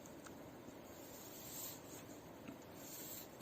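Pen scratching across paper while a simple sketch is drawn, a faint continuous scraping with light strokes in a quiet room.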